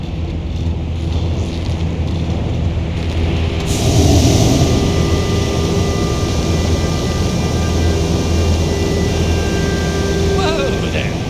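A hot air balloon burner roars steadily in Red Dead Redemption 2, a broad loud rush that swells partway through and carries on under in-game dialogue.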